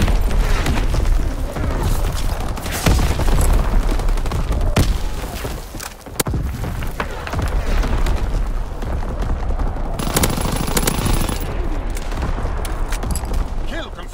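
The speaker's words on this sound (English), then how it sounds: "Incoming enemy artillery!" An enemy artillery barrage pounds a Call of Duty: WWII battlefield with loud, dense, continuous booms and rumbling explosions, scattered gunfire crackling throughout and game voices calling out over the din.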